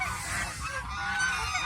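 Farm ducks grazing on grass give a few loud honking, nasal calls close by, with no talk over them.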